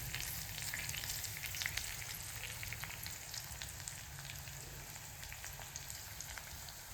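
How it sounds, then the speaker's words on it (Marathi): Onions frying in a pan, a steady soft sizzle and crackle of oil running continuously, fairly faint and close with no talking. "अशा प्रकारचे सर्व कांदा वगैरे करायचा आहे फ्राय होऊ द्यायचं आहे"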